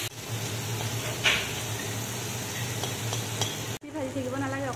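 Madhusoleng greens fry briefly in hot oil, a steady sizzle with occasional stirring scrapes in the pan, close and even, ending with a short cut before a quieter stretch of cooking noise.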